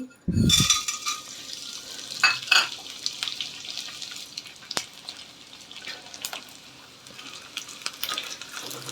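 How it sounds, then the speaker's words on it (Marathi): Edible gum sizzles and fries in hot ghee in a pan, a steady close crackle with occasional stirring scrapes and brief pops, no voices. "तो डिंक मी या तुपामध्ये परतून घेते"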